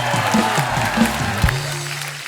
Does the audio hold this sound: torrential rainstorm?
no